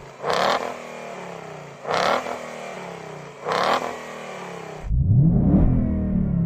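A tuned Ford Mustang engine revs hard three times in quick succession, each sharp blip dropping back to idle, then settles into a deep loud rumbling idle, close and alone.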